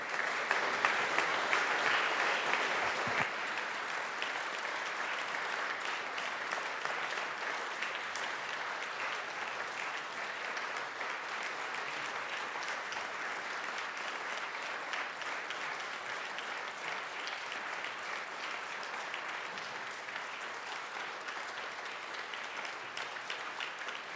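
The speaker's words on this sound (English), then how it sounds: "Let's give them a round of applause as they come." Sustained applause from those gathered in the Colorado House chamber as the escort committee walks to the podium, a steady wash of many hands that swells briefly at the start and then holds evenly throughout.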